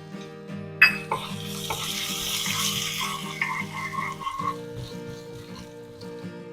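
Chili, ginger, curry leaves and dal sizzle in hot oil for an idli tempering, a steady close frying crackle with a sharp clatter near the start and stirring through it.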